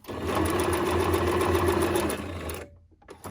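Sewing machine stitching through paper, a loud close motor whir running fast and steady for over two seconds before stopping, followed by brief faint handling sounds.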